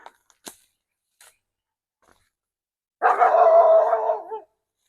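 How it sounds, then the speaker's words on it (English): A single dog bark or short howl rings out after a few faint ticks and rustles, moderately distant in an otherwise quiet outdoor setting. "Neighbor's dog."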